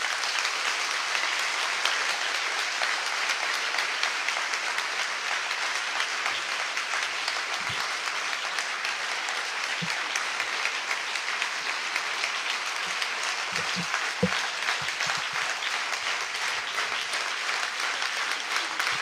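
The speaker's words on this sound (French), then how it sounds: "vous pouvez continuer à applaudir" Sustained applause from an audience in a hall at a French Communist Party summer university event, steady dense clapping filling the whole stretch at even loudness with no speech over it.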